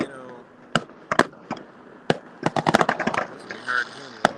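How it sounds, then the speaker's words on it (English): Fireworks bursting outdoors, with sharp cracks and pops arriving in scattered bursts and a rapid cluster of bangs near the middle, loud and fairly close, over a low background murmur. "We'll just give it a minute. Watch the fireworks."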